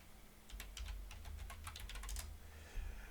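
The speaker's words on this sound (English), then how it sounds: "you're sitting there typing" Fast clicking keystrokes on a computer keyboard during a game of Endless Space 2, a quick burst of typing that trails off, faint against low hum.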